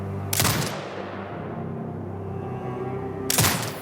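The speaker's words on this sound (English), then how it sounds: "Exit binocular mode and command the turret to fire" An automated turret in Sniper Ghost Warrior Contracts 2 fires two sharp, loud bursts about three seconds apart, with a low steady hum and fading tail in between.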